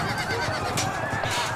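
A horse in the video game Field of Glory 2 gives a short whinny over a dense, steady wash of battle noise, fairly loud and close, with no talking.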